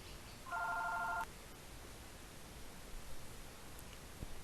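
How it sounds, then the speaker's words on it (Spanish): Telephone ringing indoors: a single short electronic ring burst lasting under a second, faint against low background hiss, followed by quiet room noise. "sonó el teléfono y yo creo que va a salir en la grabación"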